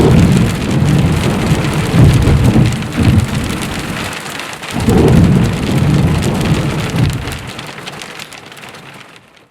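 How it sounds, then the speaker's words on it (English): Heavy rain pours down during a thunderstorm, with thunder rumbling underneath, heard from a spot sheltered among rocks. The downpour roars loud and steady for the whole stretch, dips briefly, then returns before fading toward the end. "last night we had an amazing thunder and lightning storm, loads and loads of rain"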